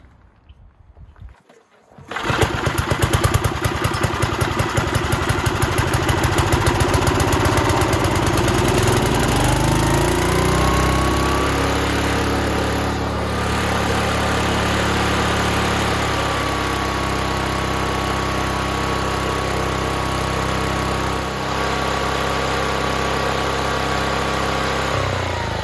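A lawn mower engine, just fixed after a pull-start repair and tune-up, catches after a brief pause and runs loud and steady up close, settling into an even idle-like drone with a faint high whine above it.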